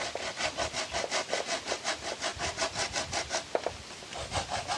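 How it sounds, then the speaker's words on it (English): Hardened cocoa rubbed steadily against a grater, giving a rhythmic rasping scrape of even back-and-forth strokes, close and moderately loud, with no talking. "When it's hard enough, you mash up with the grater."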